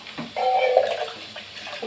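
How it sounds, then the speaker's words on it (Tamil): Water is poured into curry made with broad beans and chili powder, a steady splashing pour of about a second and a half, close and moderately loud, with no talk. "கொஞ்சமாக தண்ணி சேர்த்துக்கலாம்."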